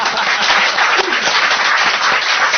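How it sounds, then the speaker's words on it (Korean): Loud, sustained applause from an audience at a lecture hall talk, many hands clapping together in a dense, continuous roar that fills the whole stretch without any speech on top. "박수 한번 부탁합니다."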